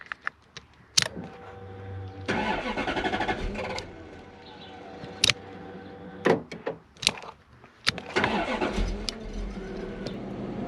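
Toyota Soarer engine being cranked and starting after a newly fitted ECU, heard close with sharp clicks and door or key clunks around bursts of cranking and a rough, uneven idle that follows.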